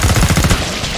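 Rapid automatic gunfire from the shooter game Killing Floor 2 rattles out in a loud, dense burst of closely spaced shots that fades into a ringing tail.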